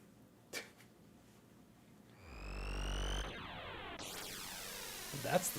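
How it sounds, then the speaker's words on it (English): A time-travel effect from the Chrono Trigger game: a low rumble builds, then rising whooshing, warping tones sweep upward and spiral into a dense shimmering burst, all synthetic and fairly loud. "That's the sound of time travel."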